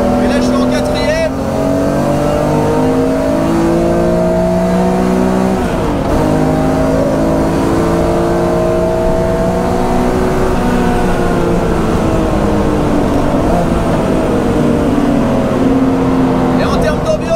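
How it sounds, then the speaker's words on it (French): A supercharged 530 hp BMW M3 E46 pulls hard in fourth gear, its loud engine drone climbing steadily and then dropping back before rising again, close and continuous under someone talking. "On a un énorme compresseur, la voiture sort 530 chevaux, et là je suis en quatrième."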